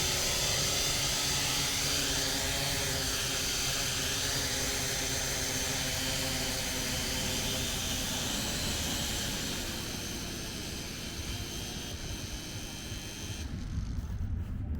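Promark GPS Shadow Drone, about seven years old, descending to land on its one-touch landing function: a steady, loud whirring rotor drone that holds throughout, then drops slightly as it settles near the end.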